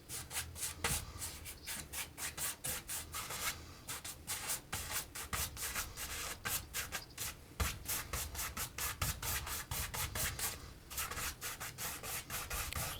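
Paint brush rubbed in quick crisscross strokes over a canvas painting, a steady run of soft, dry scrubbing swishes in close succession, near and faint with no talk.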